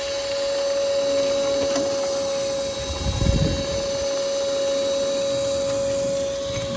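A cordless ash vacuum running on a DeWalt 20V Max battery hums steadily while sucking up ash, with a brief rattling surge midway as chunks pass through the hose.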